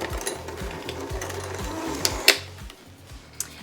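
A stand mixer creams butter and sugar on medium speed, its motor whirring in a steady, rhythmic churn, with a couple of brief clicks partway through.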